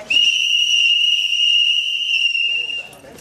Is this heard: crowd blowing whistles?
yes